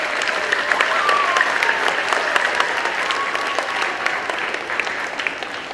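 A school audience of children and adults at a Veterans Day assembly claps loudly and continuously, with the dense applause staying close and full for several seconds.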